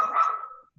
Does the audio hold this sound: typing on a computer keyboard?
no